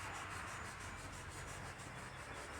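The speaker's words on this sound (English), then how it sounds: "doing it with sandpaper instead of a CNC milling machine, I'm not trying to take anything else off but the overlaying of the old gasket" Hand sanding with sandpaper to strip old gasket residue from the deck of a Chevy 283 V8 cylinder head, a steady, close, continuous rubbing scrape with an even rasp throughout and no talking.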